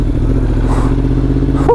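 Yamaha R1 sport motorcycle of over 200 hp, running close by with a steady, loud engine drone as it pulls away, the pitch holding fairly even through the short clip.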